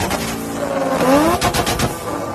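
Engine of an off-road van revving hard, a rising, roaring pitch sweep that peaks midway, then breaks into sharp popping bursts before settling, loud and close with no talk.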